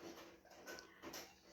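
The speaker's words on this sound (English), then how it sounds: "Sorry about the whining dog in the background." A caged dog whines in the background of a home, soft high-pitched whimpers recurring through a short stretch with no talk over them.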